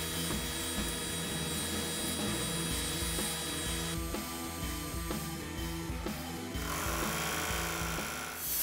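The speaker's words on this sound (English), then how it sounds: "it's now onto the bandsaw, where we're simply going to cut off some of the excess wood" A bandsaw cuts excess wood off the backer board of a DIY name sign, a steady loud mechanical whine and hum running continuously throughout with no talk.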